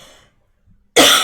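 A single loud, sharp cough bursts out near the end after near silence, close and dry, with faint noise earlier.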